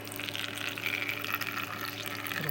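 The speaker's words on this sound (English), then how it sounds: "Put a water in the water bowl while she's happy dancing." Water pours steadily into a pet tarantula's water bowl, a continuous close trickle and splash that runs for a couple of seconds without pause.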